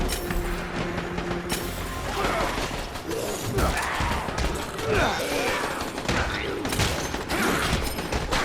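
Rapid gunfire and mechanical clatter from the zombie game Dead Rising 4 fill the whole stretch at steady loudness, running continuously under a person talking.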